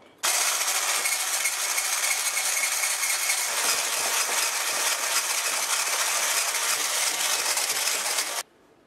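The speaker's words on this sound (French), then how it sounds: "je mélange un peu avec le sucre pour ne pas en mettre partout lorsque je vais actionner le batteur" Electric hand mixer beating egg yolks with sugar in a bowl for a Corsican fiadone dessert, a loud whirring buzz that switches on abruptly, runs steadily for about eight seconds, then stops.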